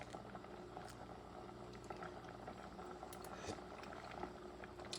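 Black bean and sausage stew simmering in a pot, a steady low bubbling and gurgling that runs continuously at moderate level with small pops, no voices over it.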